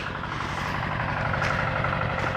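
A small 4x4 tractor engine runs with a steady, throbbing low rumble at close range, holding an even idle-like rhythm with no voices over it.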